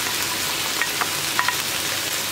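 Chicken and chopped dry onion frying in a pan, a steady close sizzle with a few faint stirring clicks, no voices.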